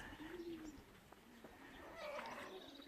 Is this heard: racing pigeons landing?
yes